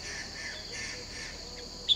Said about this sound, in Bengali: আমি চুপ হয়ে যাচ্ছি, আর তোমরা শুনতে পাচ্ছ কত রকমের পাখির আওয়াজ